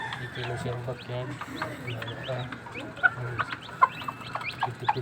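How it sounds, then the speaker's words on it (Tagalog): Backyard chickens cluck and chirp in a steady scatter of short calls, with a few sharper, louder squawks standing out near the end over a low background hum. "Ang manok guys, dito na siyang backyard."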